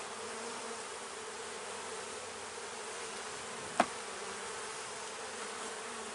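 Honey bees buzzing steadily at an open hive during an early-season inspection, a continuous even drone with a single brief click partway through.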